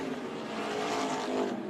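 Race cars roar around the oval at Tucson Speedway during a Turkey Shoot race, a dense continuous engine drone swelling slightly as the pack passes close by.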